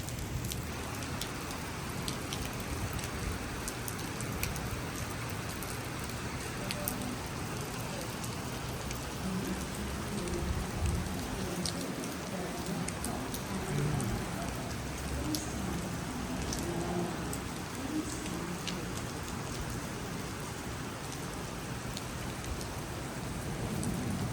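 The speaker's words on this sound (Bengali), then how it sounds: "দেখতে পাচ্ছেন খুবই বৃষ্টি হচ্ছে এখানে" Dense, continuous hiss of heavy rain pouring down at Redfern Station in Sydney, steady and enveloping with faint patters on surfaces and no voices.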